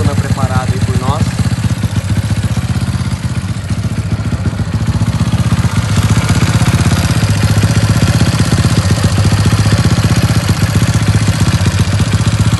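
A Honda Titan 150 motorcycle engine bored to 74 mm with a 60.5 mm stroke and an original Honda 250 carburetor idles loud and close with a rough, rapid, lumpy chug, while someone speaks over it.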